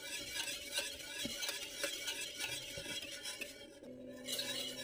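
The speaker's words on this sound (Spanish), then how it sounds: "Así que movemos hasta que hierva. Seguimos moviendo." Custard for a gluten-free flan tart is stirred in a pot on the stove, a soft rhythmic scraping and occasional light clinks of the utensil against the pot, quiet and close, with no talking.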